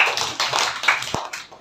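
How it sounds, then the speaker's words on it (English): A fourth-grade classroom of children claps for a classmate, giving a dense, steady patter of many hands throughout, fairly close and moderately loud. "Clap for Ganesh."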